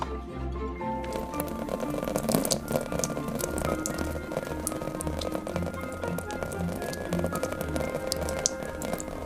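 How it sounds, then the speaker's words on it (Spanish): A plant watering can stands in for rain, sprinkling a dense, continuous patter of small droplets at low, steady volume with faint pops and taps. "para hacer el sonido de la lluvia, los creadores de una película usan una regadera de plantas"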